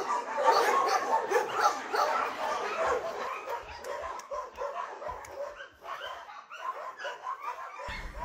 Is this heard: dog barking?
yes